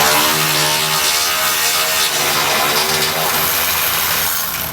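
A 15mm socket tool spins loudly and steadily up close, taking the nuts off the factory jounce bumper on a 2022 Ford during an air helper spring install, with a buzzing, grinding drone throughout.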